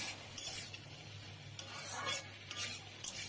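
A spoon stirs a potato snack seasoned with garam masala and kasuri methi in a pan, with a steady close scraping and a soft sizzle underneath, no voices.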